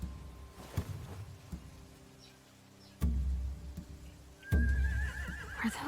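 Horses whinny in The Walking Dead video game, a loud, wavering neigh ringing out near the end over a quiet stable ambience, with a few soft thuds and shuffles before it.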